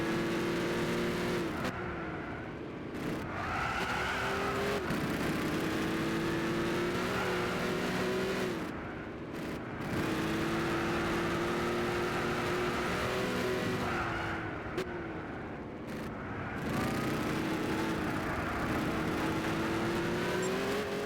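A loud car engine in the Gran Turismo 6 racing game revs and pulls through the gears in long sustained surges, dropping off briefly between shifts before climbing again, heard alone and steady throughout.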